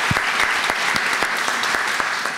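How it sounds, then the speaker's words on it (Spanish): Steady applause from an audience at a novel presentation, a dense patter of many hands clapping that holds at an even level throughout. "El aplauso para él."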